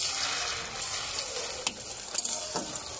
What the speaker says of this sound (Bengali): দেখো আজকে ডিম ভাজা করছি